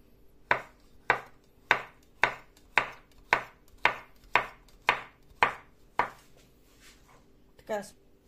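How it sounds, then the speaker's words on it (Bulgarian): A knife chops vegetables such as onion, peppers and carrot on a cutting board in about ten sharp, evenly spaced strokes, close and crisp, ending with a softer scrape. "Нарязваме и една глава лук на полумесец пак."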